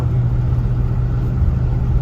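A 1969 Buick LeSabre under way on the road, its engine a steady low rumble with a constant drone inside the car, close and fairly loud, no talk.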